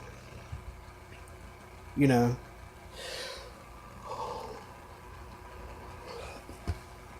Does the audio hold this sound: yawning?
yes